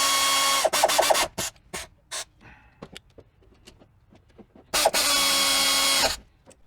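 A power impact tool tightens bolts on the front brake assembly of a 2009 Hyundai Elantra during a pad and rotor job. Two loud sustained whirring bursts sit at the start and end, with scattered clicks and clanks between them.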